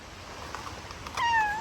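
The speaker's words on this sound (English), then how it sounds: "These cats are curious." A cat on a farm gives a single clear, close meow near the end after a stretch of quiet background, with no talking.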